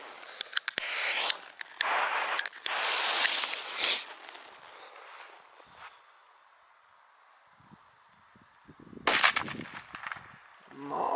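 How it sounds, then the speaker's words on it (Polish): Small firecrackers from a New Year's Eve fireworks set burst in a loud crackling flurry over the first four seconds, fade to quiet scattered pops, then return in a second sharp burst of bangs near the end, with no talk. "i zaczynamy od petard"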